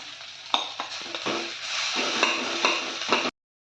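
Potatoes added to a pan with cumin and green chilies for potato patties, a close, bright sizzle with several sharp scrapes and stirring taps, cutting off abruptly.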